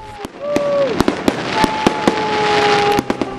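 Sharp firework bangs and crackles pop irregularly at a 1998 town celebration in Yerres, France, about a dozen reports over a steady hiss, with faint whistling tones drifting underneath.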